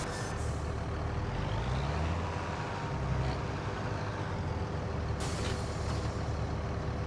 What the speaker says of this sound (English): Oh, this is the one that has the squeaky brakes.